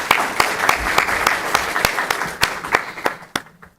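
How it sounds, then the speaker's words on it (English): An audience at an Ohio Environmental Council conference applauds steadily, with crisp individual claps standing out over a dense wash of clapping that thins and fades near the end. "So round of applause for that."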